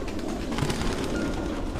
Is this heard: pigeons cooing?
yes